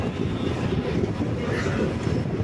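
A passenger train runs on the Nilambur–Shoranur line near Melattur station in Malappuram district, giving a steady, close, low rumble and roar that holds even throughout with no voices.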